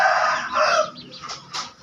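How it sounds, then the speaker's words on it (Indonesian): Sick gamefowl with a rainy-season respiratory illness in a Bangkok chicken coop give off rough, raspy bird sounds. The noise comes in a few loud bursts that fade and return close by, with no talking. "Jadi ayam pada ngorok."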